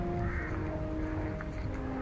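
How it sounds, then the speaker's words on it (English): Crows caw repeatedly close by in the grounds of a church near the Hill of Tara in Ireland, with steady outdoor background noise underneath. "Interesting in church area back there with all those crows"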